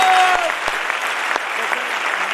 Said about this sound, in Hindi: यीशु मसीह के लिए जोरदार तालियां।